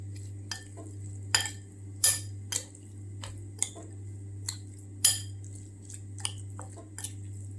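Chicken pieces being mixed with lemon juice and spices in a bowl, giving sharp intermittent clinks of a spoon against the dish with soft squishy stirring between them, close and fairly quiet over a low steady hum.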